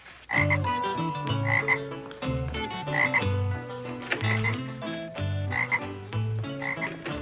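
A frog croaks over and over in a quick, rhythmic series of resonant, throaty calls, close and clear, with no talking.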